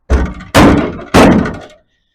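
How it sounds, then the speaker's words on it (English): Three heavy hammer blows on a rusted 1937 Ford Coupe door panel, each a loud ringing thunk fading quickly, spaced about half a second apart. "let me just hammer it a bit more"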